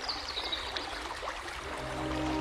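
A small stream flows with a steady, broadband rush of water, fairly close and continuous, while a soft sustained tone rises underneath toward the end.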